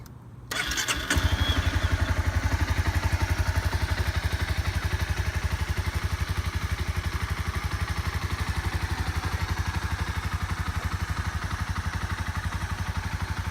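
A 2016 Honda CBR300R motorcycle cranks briefly, catches and settles into a steady, even idle, close and loud, with its low rhythmic engine pulse continuing alone.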